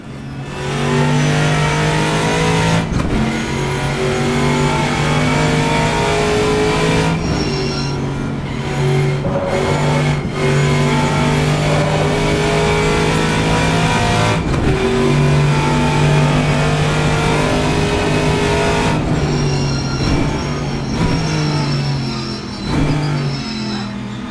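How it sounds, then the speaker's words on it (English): A TA2 race car in a sim racing game revs hard around a lap, its engine droning loudly and continuously with rising and falling pitch and a few sharp gear-change breaks, no voices heard. "we'll open that engine and we'll finish the lap"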